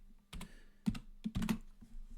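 Computer keyboard keys tapped in short, uneven bursts while data is entered into Excel spreadsheet cells; close, quiet clicks with brief pauses, no talking.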